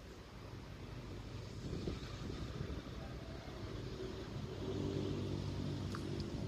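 Strong wind buffeting the microphone outdoors at a fishing spot, a steady low rumbling roar that swells slightly toward the end, with no voices.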